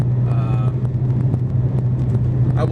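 Steady low car engine drone and road noise from inside a vehicle heading to the gym, loud and continuous for the whole stretch, with a few faint clicks and no talking.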